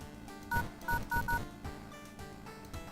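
Telephone keypad dialing tones from the horror video game World of Horror: four short, clear DTMF beeps in quick succession over a low, murky game ambience, with no speech.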